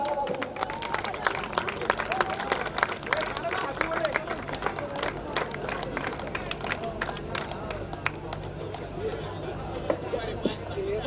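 A crowd claps and cheers at an outdoor cricket match during a cake cutting, dense continuous applause with babble and a voice speaking over it throughout.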